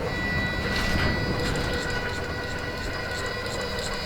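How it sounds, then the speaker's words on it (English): Right motor of a Maslow CNC router adjusting itself, giving a loud continuous whine with steady tonal hum and faint intermittent ticking micro-moves, no talking. "Right motor is trying to adjust itself."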